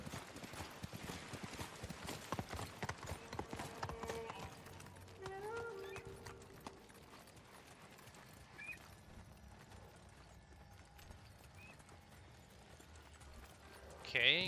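Rhythmic hoof clip-clops from a horse in the video game Ghost of Tsushima at a steady gait, mid-distance, with a voice talking over parts of it and a brief louder burst at the end.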